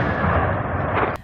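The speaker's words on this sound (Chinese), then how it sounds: "爆炸巨响，夜空瞬间冒出火光" An explosion from a night-time drone attack on a residential area in Russia sounds as a dense, roaring blast that fills the whole moment, ending in a sharp crack and cutoff, heard without voices.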